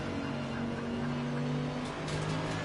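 A McLaren race car in Assetto Corsa Competizione at the TotalEnergies 24 Hours of Spa gives a steady, loud engine drone with a sustained tone and a brief rise near the end as it passes, and no speech.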